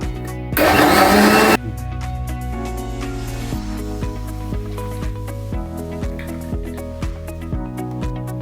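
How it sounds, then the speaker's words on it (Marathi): A kitchen mixer grinder blends soaked rice with water for dosa batter, a loud dense whir lasting about a second before it stops, followed by steady music. "पाणी टाकू आणि हेच पाणी टाकायचं दळताना."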